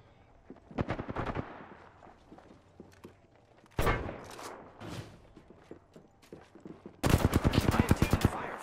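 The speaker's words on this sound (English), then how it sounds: "I am taking fire, friends." Video game gunfire comes in separate bursts of rapid automatic shots, some mid-level and one louder, sustained burst near the end, with quieter gaps and faint speech between them.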